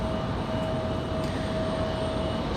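A Cessna Citation Latitude business jet with a landing gear fault makes a low pass over the runway, its engine roar a steady, continuous wash with a faint high whine held throughout, no voices.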